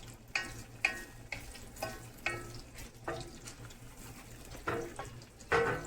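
Two kinds of onion fry in a pan for butter garlic chicken, a low sizzle broken by repeated scraping stirring strokes that come in uneven bursts, with no voices.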